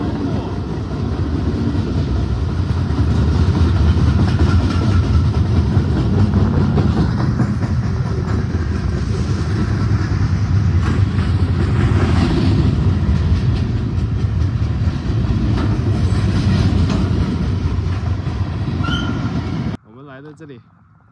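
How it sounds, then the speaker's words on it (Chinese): A freight train rolls past close by near Bear Mountain, New York, a loud sustained rumble with rhythmic clickety-clack of wagons that continues for about twenty seconds before cutting off, with a voice talking over it. "这个是火车，如果说你要扒火车的话可以扒上去哈"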